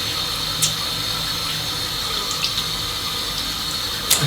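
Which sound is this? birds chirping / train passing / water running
water running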